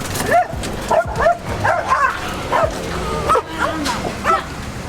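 A small dog yaps and barks repeatedly from inside a car in quick, high-pitched bursts, close and loud, with a few whimpering notes between.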